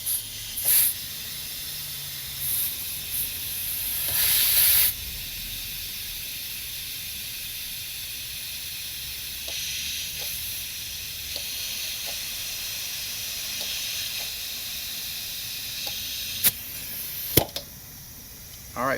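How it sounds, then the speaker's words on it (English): Air hisses steadily from the inside of a bent wheel as the tyre holds about 40 pounds of pressure. A constant, quiet escaping hiss runs throughout, broken by a few faint clicks and knocks. "you guys can hear air escaping. It is actually escaping on the inside right here."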